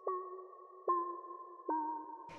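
A textured synth lead in a patch: three sustained, slightly wavering notes, each starting with a sharp attack, thickened by chorus and trailing into reverb, ending in a brief noisy burst.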